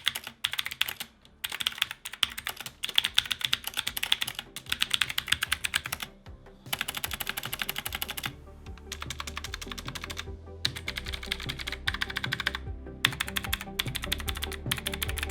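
Typing on a mechanical keyboard from a budget gaming combo, with clicky blue switches: rapid crisp key clicks in bursts with brief pauses between runs, close and alone, a faint low hum underneath.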